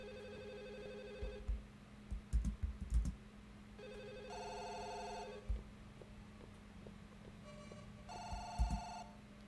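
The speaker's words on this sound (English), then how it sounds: "It isn't this phone ringing." Phone ringtone in the game Firework, sounding in repeated bursts of bright electronic tones separated by pauses, with soft clicks and thumps in between over a quiet room hum.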